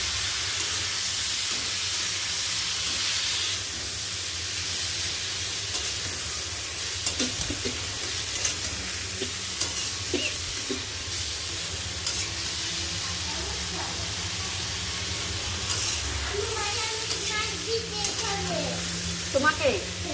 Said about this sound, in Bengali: পটলটা ভেজে নিই।